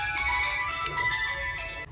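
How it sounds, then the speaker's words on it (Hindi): A phone ringtone plays a steady electronic melody with sustained tones for about two seconds, then cuts off abruptly. "लो फोन आ गया।"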